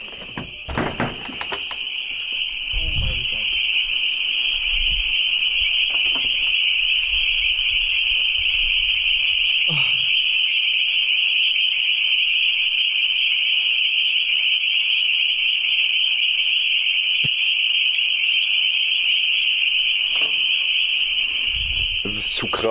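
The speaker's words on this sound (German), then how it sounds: "Und diese Frösche hören nicht auf." Loud frogs croak outside at night as a dense, unbroken chorus that hums on without pause, with a voice breaking in briefly near the start and again at the end.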